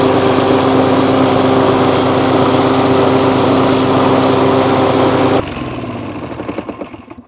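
A scrap Toro lawn mower's small engine runs steadily and loud with a buzzing hum, then its note drops abruptly and it sputters and winds down toward a stop.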